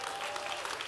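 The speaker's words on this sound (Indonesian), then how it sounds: "Tepuk tangan bagi Tuhan." A short burst of congregational applause during a church sermon, steady clapping from a crowd with no speech over it.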